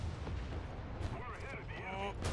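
A French 40mm gun mounted on a technical fires in a video game, booming heavily beneath continuous battle noise with faint chatter over it.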